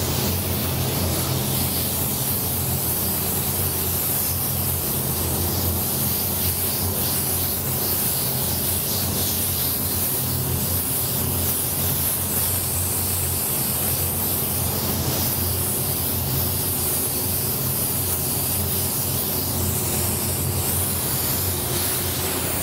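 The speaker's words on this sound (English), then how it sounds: "I'm spraying just a little bit below that because there's all kinds of little valleys in here" A paint spray gun hisses steadily and continuously, close and even, laying a first coat onto powder-coated wheels.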